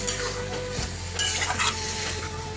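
Water poured into a pan of potatoes with poppy seed and ridge gourd, a steady close hiss and sizzle with stirring scrapes and light clinks of a utensil against the pan.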